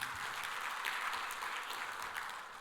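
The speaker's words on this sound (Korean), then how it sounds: "하나님께 영광의 박수 올립니다" Faint, dense clapping from a church congregation during a Korean sermon, a steady wash of many hands that tapers slightly at the end.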